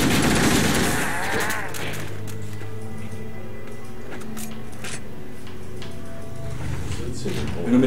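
Automatic gunfire in Halo CE, a burst of rapid shots at the start followed by scattered sharper shots and clicks through the firefight, with players talking over the game audio.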